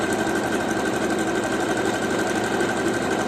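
A budget domestic sewing machine runs steadily through a buttonhole stitch, a close, continuous mechanical whirr with rapid needle chatter that holds at an even level throughout, with no voices.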